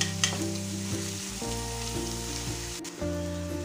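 Onions sizzle and fry in a pan for a Kerala-style fish pollichathu, a soft continuous crackling hiss with occasional stirring, heard under quiet background music.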